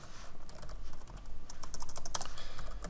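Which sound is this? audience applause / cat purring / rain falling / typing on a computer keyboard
typing on a computer keyboard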